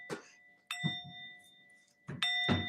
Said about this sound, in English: Let me go ahead and give you a bell ring, clear that energy with the frequency as well.